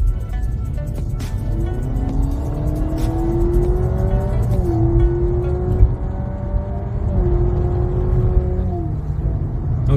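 A Honda Civic hybrid in sport mode accelerates while its simulated engine note rises in pitch, drops at each fake gear change and climbs again several times over a steady road rumble.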